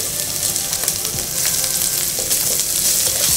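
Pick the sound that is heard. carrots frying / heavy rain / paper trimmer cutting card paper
carrots frying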